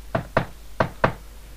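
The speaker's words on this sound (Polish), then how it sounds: "Aż tu nagle usłyszał pukanie do drzwi." Four sharp knocks on a wooden door, arranged as two quick pairs with a short pause between them, close and distinct against an otherwise quiet background.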